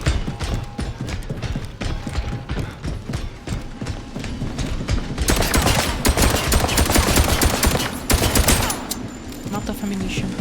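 Gunfire in the video game First Light: dense, rapid rattling shots and mechanical clatter throughout, growing louder and heavier midway, with voices talking over it.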